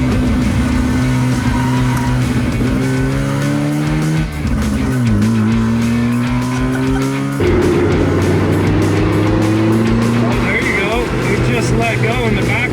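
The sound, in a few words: car engine revving while driven hard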